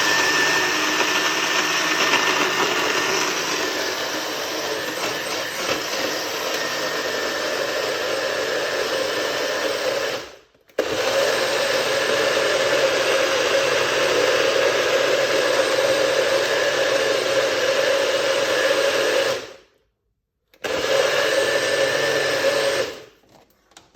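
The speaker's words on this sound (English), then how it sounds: "Let's blend and make some noise." A blender runs loud and continuous, whirring steadily, cutting out briefly twice before starting again.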